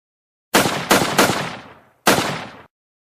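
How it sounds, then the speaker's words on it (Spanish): Four loud gunshots, three in quick succession and one after a short pause, each with a sharp blast and a decaying echo like a shotgun. "de su novillo saca una escopeta y me dispara."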